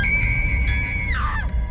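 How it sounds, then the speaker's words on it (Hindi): A girl's high, sustained scream of terror, a horror-story sound effect, rising loud and steady then bending downward and breaking off near the end, over a low rumbling background. "फिर अचानक एक चीख,"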